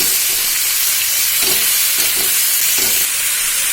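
Chopped banana stem is added to spices frying in a pan for a Bengali vegetable dish. A loud, steady sizzle and hiss fills the scene, with soft scraping stirs surfacing a few times and no talking.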